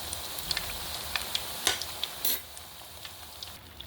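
Aloo and rice papad frying in hot oil on a low flame, a steady crackling sizzle with sharp pops and bursts scattered throughout, close and alone with no talk.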